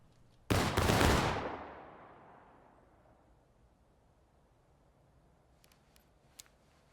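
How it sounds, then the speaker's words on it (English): A single massed musket volley in War of Rights, a loud ragged burst of many near-simultaneous shots that decays into a long rolling echo, then near silence with a few faint clicks. "Do not reload after this volley."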